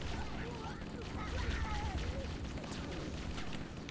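Game gunfire from Halo: Combat Evolved, dying enemies squeezing off rounds as they fall: steady rattling bursts of shots under a constant dense battle din, with no clear pauses.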